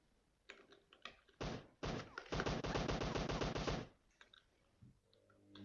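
Gunfire in the mobile battle royale game PUBG Mobile Lite, heard as a dense run of rapid, loud bursts after a few scattered single shots, then fading to quieter sounds.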